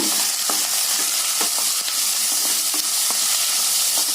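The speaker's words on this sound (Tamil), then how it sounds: "நல்லா இந்த காயை இந்த வெங்காயத்தோட நல்லா பரட்டி விடுங்க." Beans and onions sizzle steadily in a hot pan while a utensil scrapes and stirs in an uneven rhythm, close up, with no voices.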